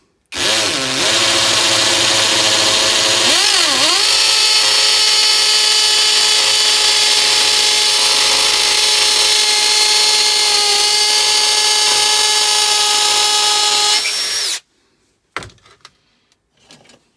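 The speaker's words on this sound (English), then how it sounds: "Just let the drill bit do it." Cordless 40V combi drill boring into brick, a loud sustained whine that steadies after a couple of brief speed dips and runs about fourteen seconds before stopping abruptly, followed by faint clatter.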